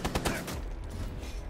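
Gunfire in the video game Rainbow Six: a rapid volley of several close, loud shots at the start, then a denser rattle of firing that runs under the rest of the moment.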